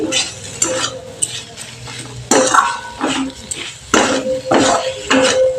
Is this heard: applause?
no